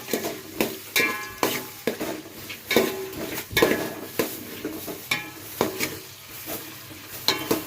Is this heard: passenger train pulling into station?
no